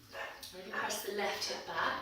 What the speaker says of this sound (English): Excuse the dog barking.